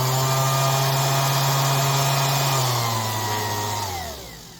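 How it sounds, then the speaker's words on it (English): A Milwaukee 6021 5-inch random orbit finish sander runs with a steady, even whine and hum, then spins down as it is switched off, heard close and alone. "I'll have to say it is a quiet sander."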